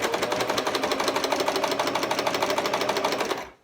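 A sewing machine stitches a waistband across a seam, a fast, steady mechanical rattle of even needle strokes, close and continuous before stopping abruptly.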